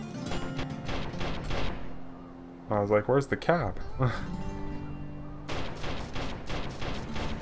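Megaton cannons fire in the vehicle-combat game Terra Tech, a quick cluster of heavy booming blasts in the middle, with someone talking before and after.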